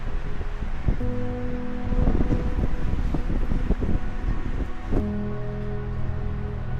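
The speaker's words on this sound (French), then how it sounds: "tout de suite le vent est beaucoup plus fort" Strong wind roars steadily across the microphone in a constant, gusty rush on a mountain peak, Pic de la Ginesta, with a few brief knocks and a low hum underneath.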